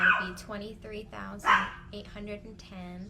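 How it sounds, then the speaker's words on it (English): A small puppy barking in several short, sharp yips and barks that break in over someone talking indoors. "I apologize for the barking."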